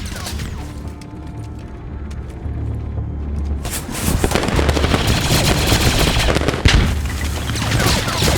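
Blaster fire in the Star Wars game Galactic Contention, switching between single shots and automatic: a dense, rapid volley of crackling shots that grows louder and busier midway, with distant battle booms beneath.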